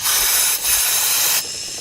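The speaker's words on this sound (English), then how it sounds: "what I'm gonna do is spray that a little bit more." Cleaner sprayed onto a 1999 Nissan Altima valve cover part: two close, loud hissing aerosol bursts with a brief gap between them, then a quieter tail.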